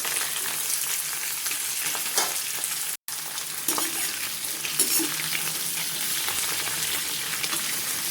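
Mixed vegetables with potatoes, capsicum and paneer frying in a pan, a steady dense close sizzle with occasional stirring clinks and one brief dropout partway through, no talk.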